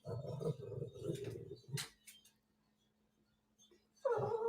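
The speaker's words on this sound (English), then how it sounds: "It ended right when she barked." A dog indoors gives a run of short, high yips and whimpering barks, falls silent, then lets out one sharp bark at the end, moderately close and without talk.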